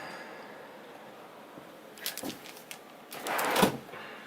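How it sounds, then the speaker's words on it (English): A slide-out drawer in a Burstner motorhome rolls and clunks in a few short bursts, a soft slide followed by a louder knock as it stops, heard close up in a quiet interior. "Slide out drawer."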